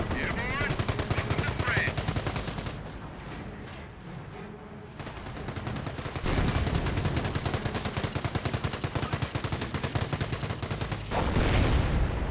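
Machine gun fire in the World War II strategy game Company of Heroes sounds as long rapid bursts of automatic gunfire with distant explosions, loud and continuous, and game voices can be heard.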